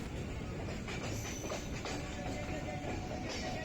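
A local train running out of Park Circus station, a steady low rumble and rattle of the carriages with faint rhythmic wheel clatter, heard from inside and fairly quiet.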